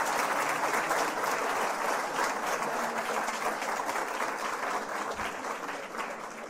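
A large symposium audience gives a loud, full round of applause that stays dense and even throughout, easing only slightly toward the end.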